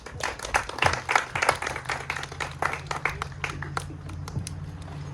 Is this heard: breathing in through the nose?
no